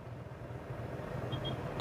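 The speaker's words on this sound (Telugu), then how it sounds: "ఇంజన్ నాయిస్ ఒకసారి గమనించండి" A 2022 Renault Kiger non-turbo three-cylinder engine idles with a steady low hum heard from inside the vehicle, constant and unchanging throughout.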